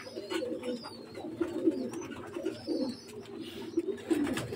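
A pair of Omani teddy pigeons coo nearby in low, repeated rolling murmurs that overlap one another, with faint higher chirps in the background and no talking.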